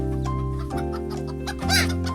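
A chicken clucks in short, repeated, evenly spaced notes over a steady tonal backdrop that sounds like music, clear and fairly close, with no speech.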